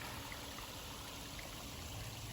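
River water flowing at a beaver dam, with the water backed up behind it, a steady close rushing and trickling wash with no voices.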